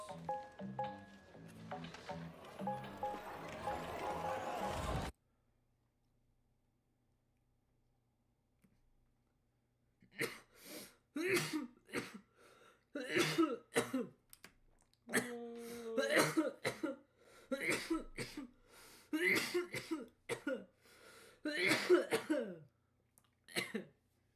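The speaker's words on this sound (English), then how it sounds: "He's having a little bit of a coughing fit." After a few seconds of background noise and a long silence, repeated harsh coughs and throat-clearing come in bursts, close and loud, continuing to the end.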